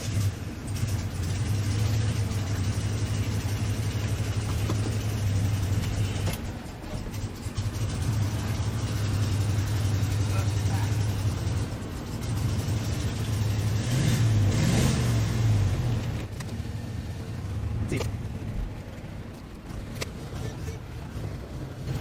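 An old-body-style Ford F250 pickup that sat unused for a decade idles and creeps in reverse, its engine a steady low drone that swells briefly midway before settling, with no talk.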